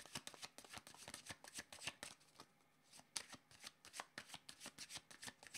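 Playing cards riffle and shuffle in quick repeated bursts during a card reading, close and crisp with a short pause midway, no speech.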